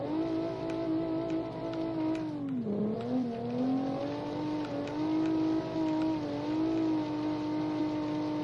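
Corde ST-201 car engine in BeamNG.Drive during a Pikes Peak gravel hillclimb, a steady droning engine note that dips sharply and climbs back, holding a sustained revving tone throughout.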